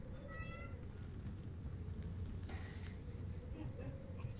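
A pet cat meows briefly a couple of times, faint and somewhat distant, over a quiet room hum with no talk.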